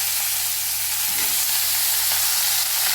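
Tempering spices crackle in hot oil for lemon pickle: a dense, loud, continuous spluttering sizzle heard up close with no voices.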